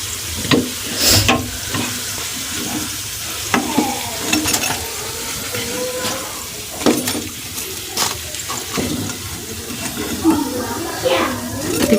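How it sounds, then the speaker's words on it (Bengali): Egg fritters frying in hot oil give a continuous sizzle, broken by sharp clinks and scrapes of a utensil stirring and turning them. A faint voice can be heard in the background. "বড়াগুলো ভালোভাবে ভাজা হয়ে গেল।"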